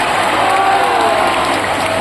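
Loud, dense applause from a large audience at a live religious darbar gathering, a steady wash of clapping throughout with crowd noise and faint voices underneath.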